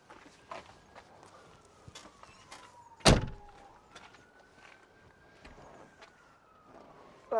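The door of a VW T4 camper van slams shut once, a sharp, loud thud standing out among faint footsteps and scattered small knocks.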